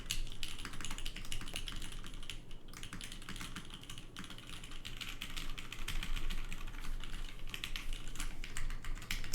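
Rapid typing on a custom-built GODSSON Dark Ex Ecliptica mechanical keyboard, close and crisp clacking keys in an unbroken stream with a short pause early on, no voices.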